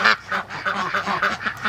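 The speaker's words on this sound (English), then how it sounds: "now we got 4 ducks." Four ducks crowd onto one nest of eggs, giving a quick run of rhythmic, nasal quacks and honks, close and fairly loud, with no talking.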